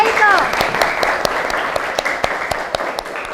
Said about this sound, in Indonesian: kasih tepuk tangan untuk Mbak Aiko